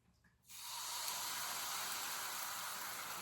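Pancake batter hits a hot pan and breaks into a sudden steady sizzle that holds close and even for the rest of the moment.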